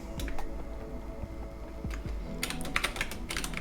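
Rapid typing on a computer keyboard, a steady run of close, light key clicks with a few louder presses, with no one speaking.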